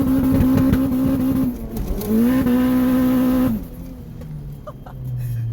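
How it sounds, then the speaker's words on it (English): A Honda engine holds a loud, steady high-rpm drone on the rev limiter, dips briefly and returns to the limiter, then drops off as the gear shifts and quieter running follows. "classic Honda just standing on the limiter before shifting"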